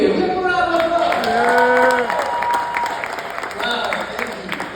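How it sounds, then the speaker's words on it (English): Applause for a newly named Teacher of the Year at a school beats competition, a steady wash of clapping throughout, moderately loud, with voices speaking over it. "Give him a round of applause."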